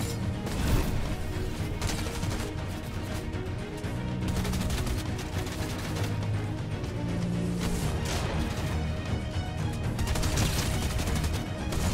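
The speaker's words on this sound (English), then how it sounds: "The bots are shooting at me now." Dense, loud gunfire and impacts from bots shooting in Fortnite, a continuous barrage of rapid shots and crashes that fills the whole stretch with no break.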